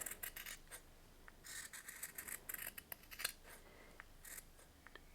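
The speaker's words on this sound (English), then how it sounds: "grab my scissors and I'm just going to trim that seam allowance down by about half" Scissors snip through jersey knit fabric, trimming a seam allowance on a baby bear hat: a quick series of crisp close cuts in short irregular bursts, with no talking.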